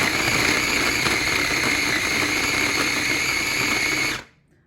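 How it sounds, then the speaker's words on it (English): A small baby food processor whirs steadily as it blends beef liver, garlic and sardines, a loud, even motor drone lasting about four seconds before cutting off abruptly into near silence. "beef liver, garlic, sardines into this little baby food processor"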